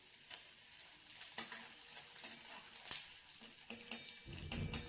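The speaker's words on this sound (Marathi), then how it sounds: "आता वाटून घेतलेला लसूण टाकायचा। याला लालसर होईपर्यंत आपल्याला परतून घ्यायचं आहे।" Ground garlic sizzling in hot oil with cumin and mustard seeds in a pan for a Marathi dal and kartule dish, steady frying with clinks of stirring, quiet and close.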